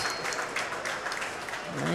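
Audience applause at a county fair livestock sale of champions auction, a steady wash of clapping filling the space throughout, with voices mixed in underneath.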